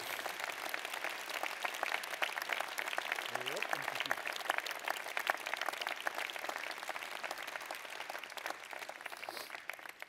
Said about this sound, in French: Merci de les applaudir, ils le méritent tout au long de l'année.